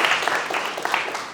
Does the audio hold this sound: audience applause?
yes